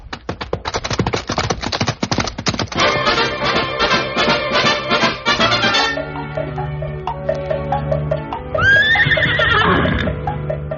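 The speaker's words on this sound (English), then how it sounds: "let's get on our horses and be on our way." Galloping horse hooves in a fast clattering rhythm that settles into steady clip-clop, followed by a loud close whinny near the end, staged as a Western radio-drama sound effect with no speech over it.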